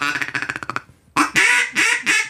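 A duck call is blown in a quick string of rhythmic quacks, then stops after a short pause, and a person starts talking loudly nearby.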